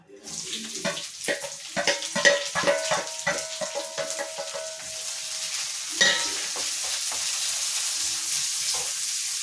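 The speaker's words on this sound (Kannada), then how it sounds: "ಇದಕ್ಕೆ ನೀರುಳ್ಳಿ ಹಾಕಿ ಚೆನ್ನಾಗಿ ಫ್ರೈ ಮಾಡ್ಕೊಳ್ಳಿ." Onions stirred in a pan with browned cumin, sounding as a run of close scraping clatters over a soft sizzle; a sustained hiss like running water fills the second half.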